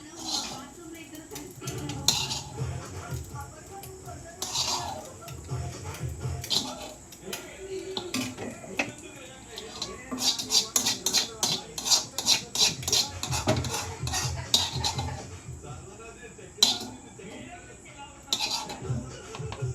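A fried Yoshi egg is scooped from a pan into a bowl with repeated scraping and clinking of utensil against cookware. A quick run of rapid scrapes falls in the middle, and low talking is heard throughout.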